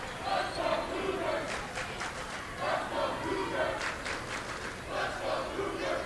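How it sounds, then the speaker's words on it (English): Lake Catholic fans at a 2006 high school basketball game against Harvey yell in rhythmic crowd chants that rise and fall in waves, loud and sustained across the gym. "Lake Catholic fans jump out to the early advantage of cheering. Let's go Cougars."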